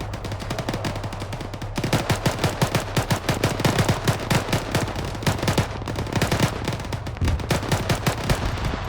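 Dense, continuous gunfire in the military shooter Arma 3, rapid automatic bursts and single shots cracking in a near-constant rhythm, loud and close, with no talk over it.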